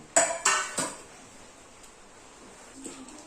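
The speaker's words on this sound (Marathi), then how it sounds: "याला आपण खाली तेल लावणार आहोत आणि त्याच्यावर मी एक प्लेट पण ठेवणार आहे" A few sharp clinks of metal against metal ring out near the start while an oiled plate and a pressure cooker container are handled for cabbage and coriander vadi; after that only faint, quiet handling noise follows.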